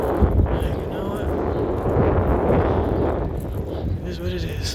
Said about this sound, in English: I know this may be really windy